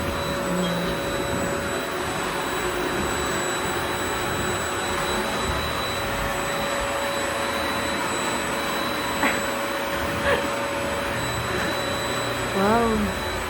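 A steady, loud whirring drone of a vacuum cleaner runs throughout, with a few faint clicks and brief background voices near the end.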